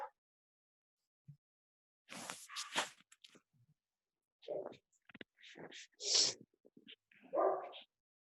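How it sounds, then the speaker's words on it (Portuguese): A dog barks loudly and relentlessly in several close, ragged bursts of harsh barks and yips, separated by short silent gaps, with no talk. "Nossa, que latido infernal."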